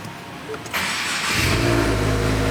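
A Subaru WRX is started in neutral: a brief starter crank, then the engine catches with a rising rev and settles into a loud, steady idle up close.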